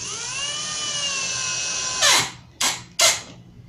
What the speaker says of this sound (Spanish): procedas a la colocación de los tornillos inclinados